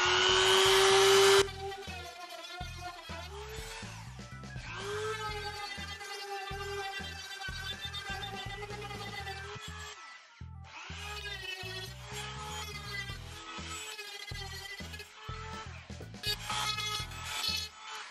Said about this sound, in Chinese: 稍微打磨一下